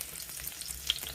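Crushed garlic frying in a pan, a faint, even hiss of sizzling oil with small scattered crackles and no talking.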